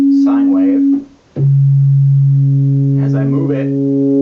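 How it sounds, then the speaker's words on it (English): A plain sine wave from a Korg King Korg synthesizer sounds as steady, pure held tones that shift pitch once after a brief gap, and someone talks over part of it. "there's your regular boring sine wave"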